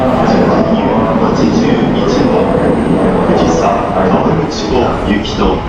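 Loud, steady rumble of the Fuji Excursion train pulling into Kawaguchiko Station, Japan, with voices talking over the noise.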